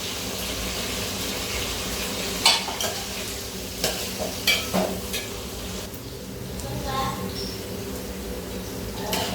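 Garlic, onion and curry leaves sautéing in oil for a spicy garlic kulambu, a continuous low sizzle with intermittent clinks and scrapes of a spoon stirring the pan, close by, steady throughout.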